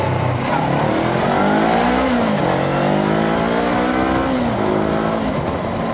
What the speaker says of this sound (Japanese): 今ちょっと加速したと思うんですけど、加速めっちゃいいです。